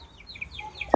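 Several 31-day-old broiler chickens give short clucks and chirps close by, with a louder cluck at the very end over a low farm-shed background.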